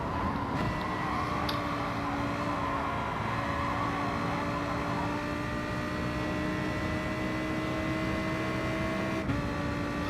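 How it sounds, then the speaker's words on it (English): Racing cars in an oval race within a racing video game, a sustained engine whine with steady tonal harmonics that shift slightly in pitch, holding a constant near level with no talk. "the sound of the cars is amazing"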